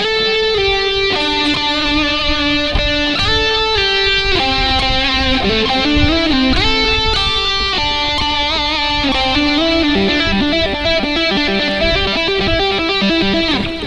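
A clean electric guitar plays a pentatonic melody lick, single notes and bends following one another in a steady, clear line with no voices over it.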